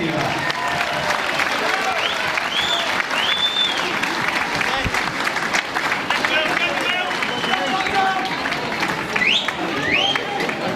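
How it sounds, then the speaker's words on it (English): Boxing crowd applause after a featherweight title bout in Ireland, a steady dense roar of clapping and cheering that fills the whole stretch while an announcer speaks over it. "Ladies and gentlemen, please give a round of applause."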